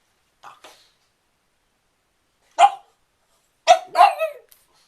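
A pug barking while fighting a door stopper indoors: a few short, sharp barks close by, two faint ones, then a louder single bark and a quick pair after a pause.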